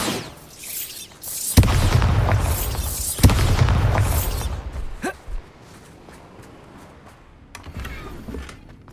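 Two heavy, booming blasts from the Bombarda spell in Hogwarts Legacy go off about two seconds apart. Rumbling debris follows and fades into quieter footsteps and ambient sound.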